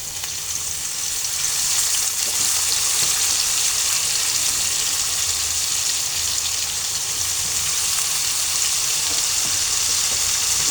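Frozen greens hitting a pan of frying dried fish, green chili, onion and garlic, giving a steady loud hissing sizzle that swells in the first couple of seconds and then holds evenly.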